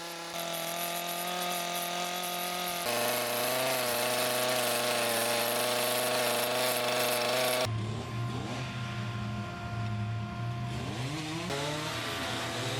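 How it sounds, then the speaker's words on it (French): A chainsaw carving a wooden sculpture, the engine whining steadily close by and shifting pitch as the sculptor speeds up and slows the blade to bring out the relief of ears laid back. "Les rotations plus ou moins rapides de la tronçonneuse font peu à peu ressortir le relief des oreilles plaquées en arrière"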